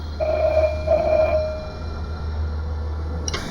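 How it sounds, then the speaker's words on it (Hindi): A telephone rings in two short bursts, then falls silent over a low steady hum, followed by a faint click. "ये वापस बज रहा है। नहीं हर्ष, फोन मत उठाना।"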